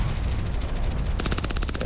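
Rapid gunfire aimed at the player in a game firefight, a steady stream of fast automatic shots over a low rumble, turning sharper and more distinct partway through.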